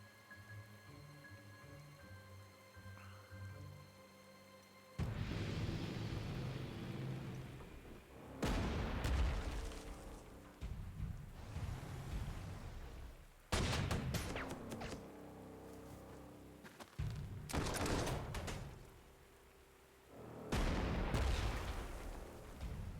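Artillery fire in the World War II strategy game Panzer Corps 2 at Dunkirk, with several heavy booms and rumbling blasts in separate bursts that each roll out and decay, loud against a quiet background.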